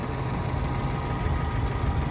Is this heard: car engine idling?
yes